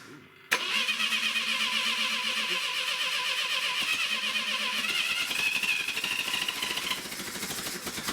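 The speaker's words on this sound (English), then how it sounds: "Sorry, bumped the starter." A Clark forklift's starter motor abruptly kicks in and cranks the engine in a steady, fast mechanical churn for several seconds, then eases slightly near the end without catching.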